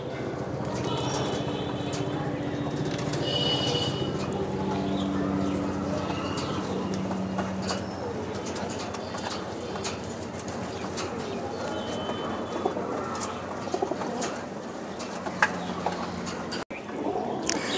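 Desi giribaj pigeons coo repeatedly from a rooftop cage, with low rolling calls layered over a steady open-air background and occasional clicks and rustles, and a person talking nearby.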